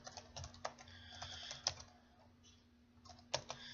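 Quiet typing on a computer keyboard while entering text into an Excel spreadsheet, scattered key clicks in uneven bursts with short pauses, close and soft, no talking.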